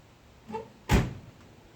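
A soft click followed by a firm thud as a door swings shut nearby, then quiet.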